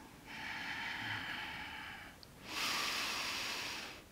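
Slow breathing during a yoga exercise of circular movements: a long soft inhale, a pause, then a stronger, louder exhale through the nose, heard up close and alone.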